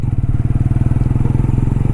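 Honda Hornet 125 motorcycle pulling away from low speed in fifth gear, a loud, close, steady thumping engine note with a fast regular pulse and no talk.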